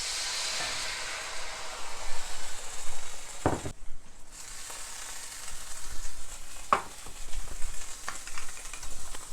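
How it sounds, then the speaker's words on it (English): Ramen noodles fry with added liquid in a pan, giving a steady broad sizzle with crackling bursts, a brief sharp hiss flare and a short quiet gap midway, close and continuous without talk. "So now we're going to add the ramen. Some liquid so it doesn't burn."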